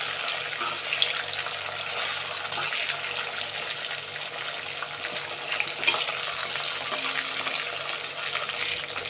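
Chicken pieces sizzle in hot oil for chilli chicken, a steady, close, hissing crackle that runs the whole time with almost no talk.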